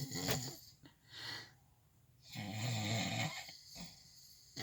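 Two men snore through the night, heavy rasping breaths alternating in uneven cycles, some loud and close with throaty rattles, others softer, with quiet gaps between them.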